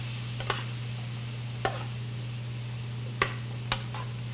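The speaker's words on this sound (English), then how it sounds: "Now all you're doing is just stir frying these a little bit." Onions stir-fry in a skillet, with a steady low sizzle and a low hum under a few sharp scraping clicks of a utensil against the pan, spaced irregularly.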